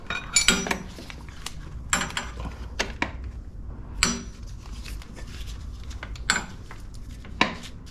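Sharp metallic clinks of a wrench knocking against a differential bolt on a 2020 Ford Escape AWD, several separate taps and rattles at irregular intervals, close and fairly loud over a quiet room.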